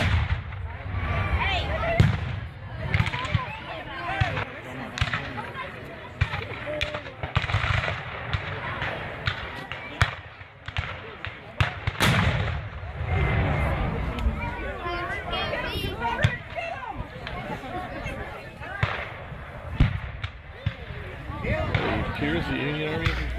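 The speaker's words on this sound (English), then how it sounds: "The two sides met in the middle of the field for massed volleys and more artillery." Civil War reenactment battle with massed musket volleys and artillery fire at Narcoossee Mill, dense overlapping bangs and booms through the whole stretch, loud and continuous, with people talking over it.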